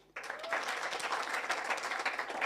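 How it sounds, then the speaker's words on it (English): An audience at a development partners' event in Kenya breaks into sudden, loud, sustained applause, dense clapping filling the room from start to finish. "Clap for them."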